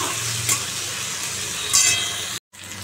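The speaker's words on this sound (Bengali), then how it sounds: "আলুগুলো দিলাম, এবার এটাকে ভালো করে আবার লাল করে ভাজবো" Potatoes and onions frying in a pan, a loud close hiss of sizzling oil with a couple of brief sharper spatters, cut off by a momentary silence near the end.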